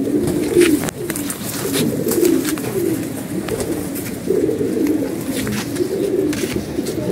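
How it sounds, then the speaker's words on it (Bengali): Pigeons coo steadily and close by in a loft of paired birds of mixed colours, including black-winged and golden-black ones. Low rolling coos repeat throughout, with a few brief bird flutters and knocks. "আমি কবুতরগুলো ছাড়ি, ছেড়ে দেখ"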